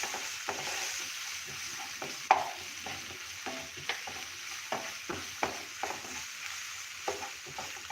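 Ginger-chili paste and spices sauté in a pan while a spoon stirs them, with a steady close sizzle under soft, regular scrapes and taps against the pan, and no talking.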